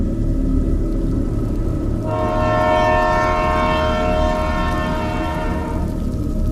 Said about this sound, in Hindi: और ट्रेन तो सामने आ रही है।